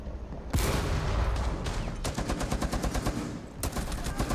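Rapid automatic gunfire in Rainbow Six Siege during a hostage match, with sustained bursts of fast shots and sharp single cracks, loud and close with no talk over it.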